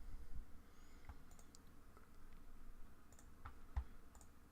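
Scattered keyboard clicks from a player's computer keyboard during a World of Tanks session, faint and sparse with a few sharper taps over a low steady background hum.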